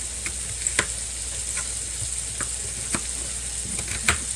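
Ground beef browning in a pan, cooked at home for a ragu dinner, fills the clip with a steady close sizzle and frying hiss, broken by a few sharp crackles and spoon scrapes as it is stirred, with no talking.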